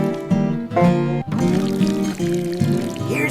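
Cartoon water pours onto plants in a few gushing splashes with tonal, bubbly glugs, close and clear, alone without speech.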